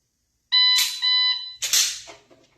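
A loud electronic shot-timer buzzer sounds in two harsh, tonal bursts during dry-fire drawing practice, the second followed by a short rattling clatter, with no talking.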